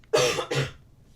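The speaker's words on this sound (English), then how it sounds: "I had to cough." Two sharp, close coughs in quick succession, the first slightly stronger, then quiet.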